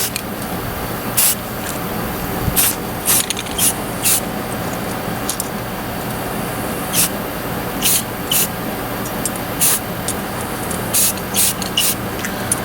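Short bursts of aerosol spray paint hiss over a new trap, about a dozen quick puffs spaced irregularly across the stretch, close and fairly loud against a steady low background.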